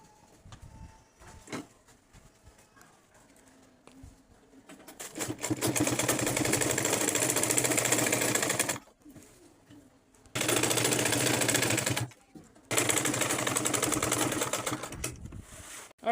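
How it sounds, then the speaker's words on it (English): A sewing machine stitches a braided turban cap in three long, loud, steady bursts of rapid mechanical clatter, separated by short pauses, after some quiet handling. "So now I'll be taking it to my sewing machine. I will run from this end to this other end."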